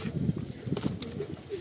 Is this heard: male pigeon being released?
yes